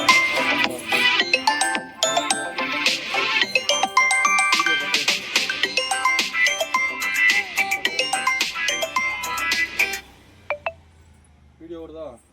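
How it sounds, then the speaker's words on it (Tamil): A mobile phone ringtone from an incoming call plays a bright, repeating electronic melody for about ten seconds, loud and close, then cuts off, leaving a few faint taps and clicks. "வீடியோ எடுக்கிறதுக்கு ஃபோன் வருது."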